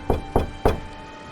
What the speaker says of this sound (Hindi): तभी अचानक लकड़ी के पुराने और भारी दरवाजे पर जोरदार दस्तक हुई।